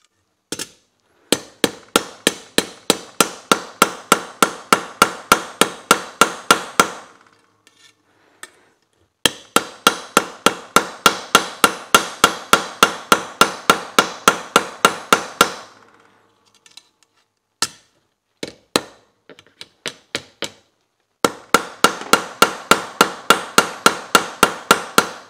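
Copper tubing is hammered to press indentations for cooling fingers: long runs of rapid, evenly spaced metallic blows, close and loud, broken by short pauses and a few scattered single taps.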